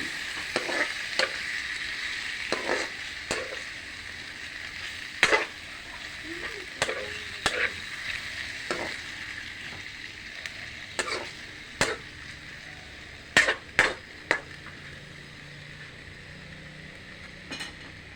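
Food frying in a pan hisses steadily as a spatula stirs it, with sharp scrapes and taps every second or so over a constant sizzle.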